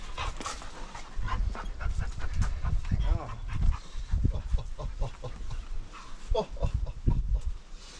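Rapid, rhythmic dog panting continues close by, with shuffling movement and faint background noise throughout.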